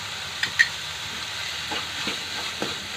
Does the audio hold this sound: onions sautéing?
yes